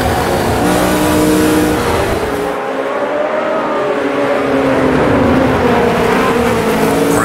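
Race car engine lapping the Nürburgring Nordschleife in a racing sim game, loud and continuous with rising and falling revs through gear changes, a brief lift around the middle, no talk.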